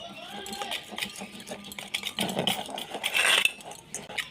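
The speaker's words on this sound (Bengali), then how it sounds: "দিয়ে ভালো করে ব্যাটারটা ফেটিয়ে নিতে হবে" A whisk clinks and scrapes against a bowl while semolina sponge cake batter is beaten, producing irregular metallic taps and rattles that grow louder and busier toward the end.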